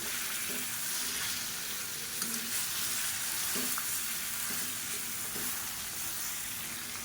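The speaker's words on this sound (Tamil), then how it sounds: "இப்போ இதில் நம்ம ஊற வச்சுருக்க அந்த சிக்கனை சேர்த்துக்கலாம். சேர்த்துட்டு நல்லா அப்படியே பரட்டி விட்டுக்கலாம்." Marinated chicken sizzles steadily in a hot pan for chicken varuval and biriyani, a close, even frying hiss broken by a few soft knocks as it is stirred.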